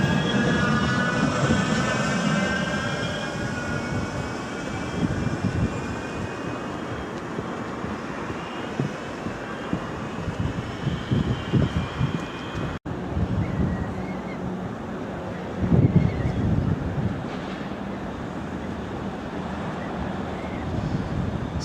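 A Manchester Metrolink tram arriving at a stop, heard from on board: a steady rumble with wind-like noise and faint rising and falling motor whines, ending in softer rolling as it slows.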